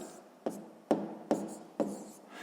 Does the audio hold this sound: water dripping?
no